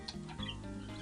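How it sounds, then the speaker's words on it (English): Pet budgerigars chirp and chatter softly in the background, a faint cluster of short, busy twittering notes. "my happy little budgerigars, my parakeets in the background, chirping you hello"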